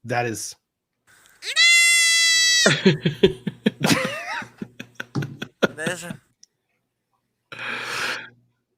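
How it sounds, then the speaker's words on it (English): A goat screams in a loud, drawn-out, human-like bleat lasting about a second, followed by excited talking and laughter from several people, with another brief cry near the end. "I don't know that I'll ever be able to hear a goat scream noise again without visualizing that goat."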